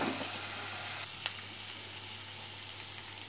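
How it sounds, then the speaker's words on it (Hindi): Jackfruit pieces frying in oil in a pan, a steady crackling sizzle with faint occasional pops and stirring clinks, continuous and fairly quiet throughout. "तो देखिए कटहल कितना अच्छे से फ्राई हो चुका है।"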